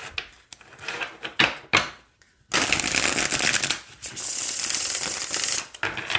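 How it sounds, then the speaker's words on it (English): A deck of tarot cards being shuffled by hand: several short riffling bursts, then two long, loud, close riffles with brief pauses between them and no talking. "Let's shuffle."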